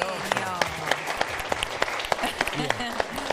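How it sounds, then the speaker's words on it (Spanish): Audience applause for a man taking a black belt test at a martial arts class, a steady patter of clapping under cheerful talk and whistling voices nearby. "Aplausos para Muy Fernando."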